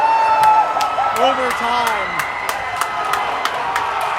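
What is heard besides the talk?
crowd cheering at championship game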